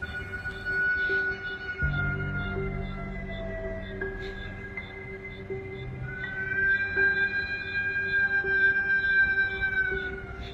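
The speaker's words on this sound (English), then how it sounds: "it does sound like a siren, like a cop siren or ambulance or something" A wavering, siren-like wail rises and falls over a steady hum, with high tonal lines drifting in and out, fairly loud and continuous.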